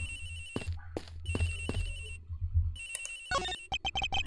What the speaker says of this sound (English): Agent Hicks's phone! It's ringing from somewhere